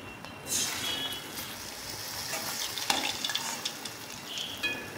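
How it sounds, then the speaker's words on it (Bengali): Gaja sweets frying in hot oil, a sudden burst of dense crackling sizzle that stays bright and steady, with light scraping stirs and a few pops close by. "বাকি তেলের মধ্যে আবার এগুলো ভেজে নেব"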